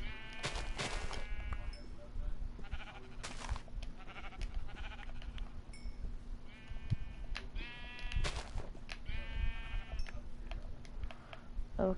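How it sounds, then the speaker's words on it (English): Sheep bleating in Minecraft, several short, wavering calls in separate bursts over a low steady background hum, fairly quiet. "Ooh, sheep."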